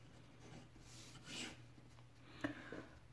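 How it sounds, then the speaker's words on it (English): A Platinum 3776 Century fountain pen writes on photocopy paper, making faint, soft scratching strokes in short bursts, close and very quiet. "The writing of this pen is very smooth."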